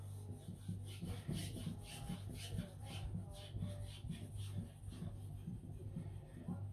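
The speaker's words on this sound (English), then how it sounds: "I'm sharpening this point too at about there" A knife blade is stroked repeatedly across an Ohira natural whetstone, giving a faint, steady, gritty rasping rhythm of back-and-forth passes close by.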